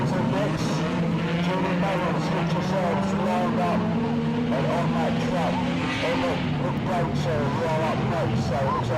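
A low-powered banger racing car runs flat out at Stansted Raceway with a constant engine drone and shifting pitch. A voice talks continuously over the engine.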